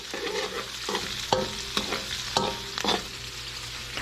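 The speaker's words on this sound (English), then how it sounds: "this, which is our onion. We're gonna saute that." Onion sautés in a pan for Filipino goat stew as a spoon scrapes and stirs it, with a low background sizzle broken by about half a dozen distinct, close scraping strokes.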